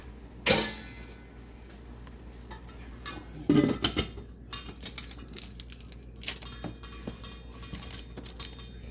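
Saladmaster cookware pot of crab simmering in coconut milk with moringa gets its metal lid set on, a sharp clatter followed by a second clinking knock and scattered light kitchen rattles in a quiet room.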